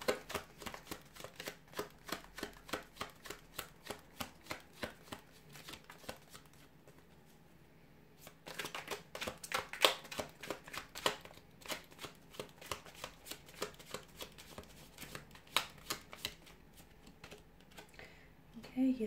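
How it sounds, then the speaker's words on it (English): Tarot deck being shuffled, a quick run of crisp card riffles and flutters in repeated bursts at close range, with a brief pause midway before the riffling resumes. "So we'll go ahead and give the cards a shuffle"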